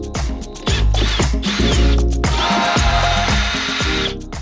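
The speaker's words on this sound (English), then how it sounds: "So I just have to get in here and remove a couple of screws." A power drill whirs in short bursts, backing screws out of an RV's center support bar, loud and close, with a melody playing in the background.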